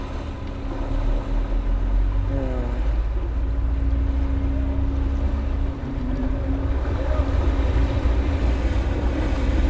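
A ferry's engine drones loud and steady through a short crossing in Denmark, a low continuous rumble with wind and water noise and brief wavering tones around the second and sixth seconds.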